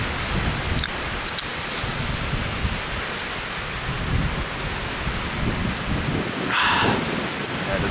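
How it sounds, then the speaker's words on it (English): High wind buffets a winter campsite in the Rocky Mountains, a steady broadband roar with gusts swelling and easing throughout, loud and close with no voices. "Yeah, the wind's kind of a bummer."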